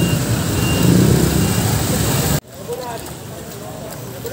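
Busy street traffic near the Marikina River roars loudly, with truck engines and reversing beeps. It cuts abruptly to a quieter ambience with faint vehicle sounds, and people can be heard talking.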